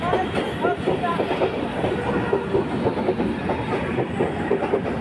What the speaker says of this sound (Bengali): ট্রেনটা আমাদের নামিয়ে দিয়ে সোজা চলে যাচ্ছে বালি ব্রিজের উপর দিয়ে ডানকুনির দিকে।